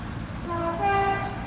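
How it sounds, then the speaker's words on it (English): Train passing near Buckden and the Offords, heard as a rising rumble with tonal horn-like notes swelling midway, moderately loud, with no talking. "And there's a train coming."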